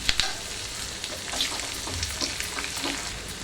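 Cashews and curry leaves fry in a pan with green chilli and ginger, giving a steady close sizzle with crackling pops and a few soft stirring scrapes, no voices.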